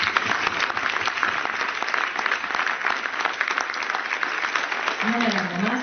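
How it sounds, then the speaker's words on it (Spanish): Audience applause in a lecture hall, a dense, continuous clatter of many hands clapping close and loud, holding steady throughout with a brief tonal sweep near the end. "voy a empezar por daros un aplauso para todos vosotros y vosotras"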